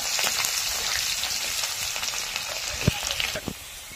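Chopped onions frying in a pan, giving a steady, loud, bright sizzle with occasional pops and stirring knocks, close up and continuous.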